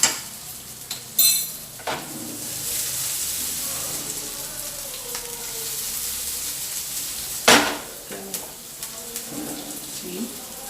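Food sauteing in a pan over a high flame for a bacon chicken burger, a steady soft sizzle with light spoon stirring and a couple of sharp utensil scrapes and clinks against the pan.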